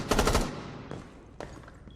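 Rapid burst of gunfire in a big, echoey lobby in Rainbow Six Siege, followed by two fainter single shots; each report trails off in a long reverberant tail.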